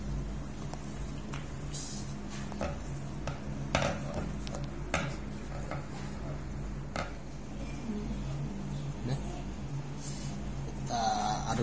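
Light scraping and clinking while a Dextone two-part epoxy glue mixture is stirred, irregular small taps and scrapes over a low background hum, with a few breaths or faint vocal sounds.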